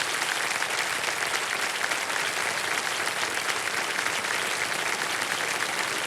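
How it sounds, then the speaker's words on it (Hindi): Steady, even applause from a studio audience on a television quiz show, a continuous dense patter of clapping at moderate level with no break. "तालियां बजती रहें"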